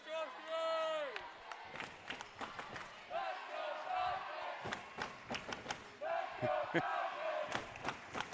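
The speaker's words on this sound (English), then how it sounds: "Falcon crowd that made their way here to White House starting the Let's Go Falcons chant." Crowd at a middle school volleyball final chants and cheers in rhythmic bursts, mixed with claps and whistles, while an announcer talks over it.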